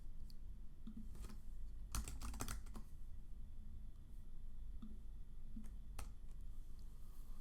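Typing on a computer keyboard, faint scattered key clicks with a brief quick burst in the middle, over low background noise.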